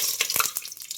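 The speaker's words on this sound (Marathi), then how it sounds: "तेल गरम झालेला त्याच्यात आता हे खडे मसाले घालतो" Whole spices drop into hot oil and crackle and spit in short bursts, with several quick pops over a steady hiss, close by and fairly quiet.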